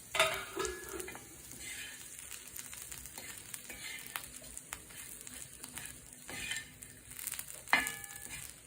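Dried fish chutney being mixed in a pan, with intermittent scraping and stirring strokes over a soft background sizzle, close and moderately quiet, with no voices.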